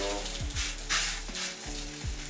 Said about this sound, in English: Our first chapati is here, ready rolled into the pan.